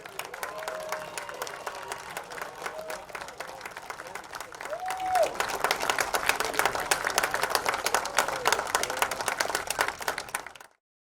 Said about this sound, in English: please give one loud, thunderous applause for the senior students and their families here at Memorial Field